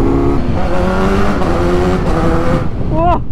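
A 2021 Kawasaki Z900 motorcycle with a quickshifter, its engine loud and close, revving hard through several rising pulls with quick shifts, ending in a brief high whine.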